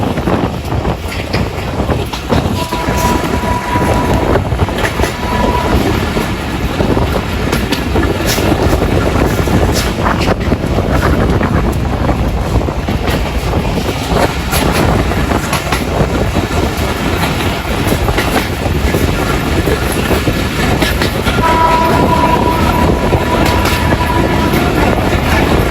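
An express train rumbles steadily along the rails, a continuous loud roar with faint rhythmic clatter and wind noise throughout.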